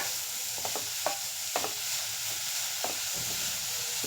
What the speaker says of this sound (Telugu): ఇది కొంచెం పచ్చివాసన పోయేదాకా మనం ఫ్రై చేసుకోవాలి